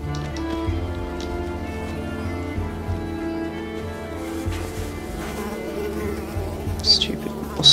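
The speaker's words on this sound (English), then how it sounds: "Stupid mosquitoes, man." Mosquitoes buzzing in the video game Unravel, a steady insect drone running through the whole stretch among layered game sounds, with a slightly louder burst near the end.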